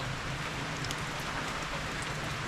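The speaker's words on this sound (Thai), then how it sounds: "ฝนตกเลย" Rain falls steadily in a continuous dense patter of drops on surfaces, even and unbroken from start to finish, with no voices over it.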